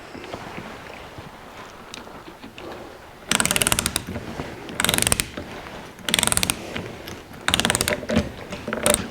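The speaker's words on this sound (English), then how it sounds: "install pinion washer nut, tighten nut to 210 foot-pounds torque." A ratchet tightens a new pinion washer nut on a 1982 Jeep CJ7 axle: four loud, close bursts of rapid ratcheting clicks, each about a second long, separated by quieter metallic handling noise, with no talking.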